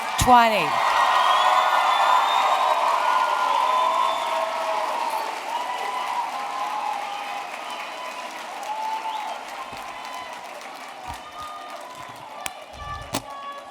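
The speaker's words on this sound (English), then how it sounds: "one more round of applause" A crowd at an 8th grade recognition ceremony breaks into loud applause with whoops and cheers, the clapping slowly thinning out over several seconds.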